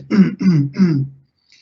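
A person clears their throat three times in quick succession, close and fairly loud, with short rough guttural bursts and then silence.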